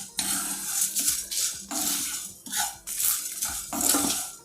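Whole spices for garam masala dry-roasting in a pan are stirred with a metal spoon, making repeated scraping, rattling sweeps against the pan in a steady rhythm, close and clear with no talking.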